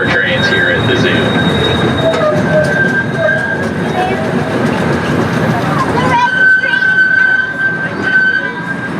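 A small zoo train at the Santa Barbara Zoo rolls along with a loud mechanical rumble, clatter and a steady high wheel squeal, turning past a barn, while a narrator talks over it.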